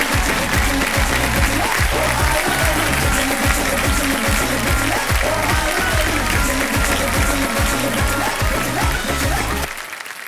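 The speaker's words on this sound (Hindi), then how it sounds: "जोरदार तालियां बज जाए इनके लिए।" Loud, sustained studio audience applause on the Kaun Banega Crorepati 14 set, dense clapping layered over a steady rhythmic music beat for about ten seconds before dropping off sharply at the end.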